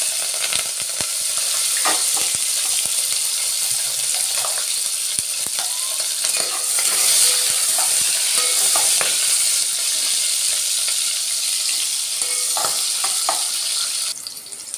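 Onions and green chillies sizzle steadily in a pan for aloo pulao, with cumin already added, a continuous loud frying hiss broken by occasional stirring scrapes, no voices.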